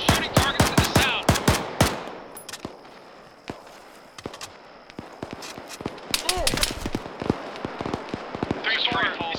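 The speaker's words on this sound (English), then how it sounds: "who's shooting targets to the south?" Gunfire crackles in a military simulation video game, with rapid bursts and single sharp shots, some close and loud, others farther off, while voices talk over the radio.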